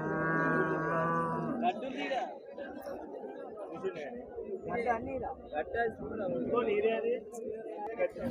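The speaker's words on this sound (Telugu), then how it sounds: "దూడ అండి" A calf at a livestock market in Husnabad, Siddipet district, lets out a drawn-out, low moo at the start, followed by several people talking nearby.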